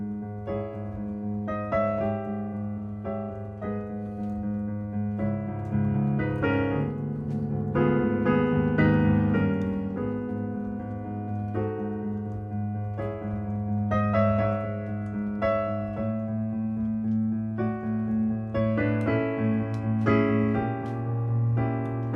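Piano playing a section of Für Elise, a steady flowing passage of single notes and chords at moderate volume, heard alone and close with no talking.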